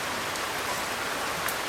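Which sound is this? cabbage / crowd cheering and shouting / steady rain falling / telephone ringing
steady rain falling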